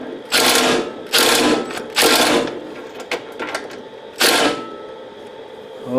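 An impact tool hammers at a universal joint on a lathe caster wheel in several short, loud rattling bursts, with four main bursts and smaller pulses between them against a quiet background.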